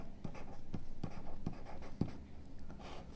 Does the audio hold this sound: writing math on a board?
yes